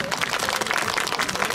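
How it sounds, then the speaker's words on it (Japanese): Outdoor audience clapping for a samurai warrior troupe's martial arts performance in Nagoya, brisk uneven applause at moderate distance, fairly quiet and steady for a moment with no talk. "わしがかっこよかったものを拍手"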